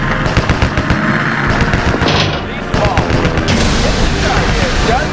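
Bombs dropped on an enemy ship in a naval combat video game, heard as dense, loud rumbling blasts and crackling bursts overlapping continuously, with a game voice speaking over them.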